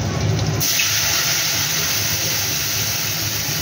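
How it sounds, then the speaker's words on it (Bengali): Water pours steadily into a cooking pot holding oil and turmeric, a continuous splashing rush that stays close and even from start to finish. "এবার আমি জল দিয়ে দেবো"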